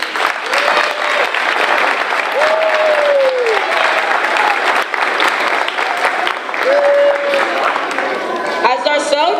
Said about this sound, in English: Can we give another round of applause for our veterans?